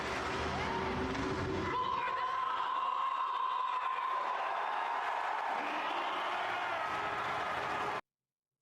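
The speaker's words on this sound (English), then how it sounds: "Crowd goes nuts." A large crowd roaring and cheering at a World of Warcraft expansion announcement, a loud sustained mass of voices and whoops with music underneath, ending abruptly.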